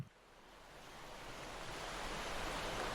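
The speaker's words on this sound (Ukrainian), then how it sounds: "Вони бігли одна поперед одну, жваво шуміли" Sea waves on the Black Sea shore wash in as a steady, broad surf roar that swells gradually louder, with no voices present.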